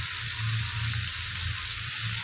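Capsicum frying in a pan during chaat preparation, a steady dense sizzle with low bubbling crackle running continuously and close, no voices.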